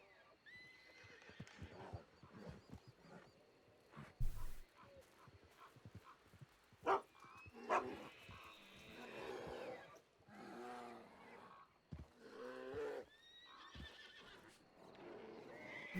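Horses neighing and whinnying in a video game, several loud shrill calls scattered among clip-clopping hooves, with an animal roar mixed in and someone talking intermittently.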